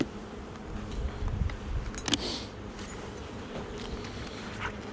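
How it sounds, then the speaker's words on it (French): Honey bees buzz densely in front of a hive during a dry spell, a thick steady hum of many insects close to the microphone, with a brief louder pass partway through and no talking. "il y a quand même noir d'abeilles devant"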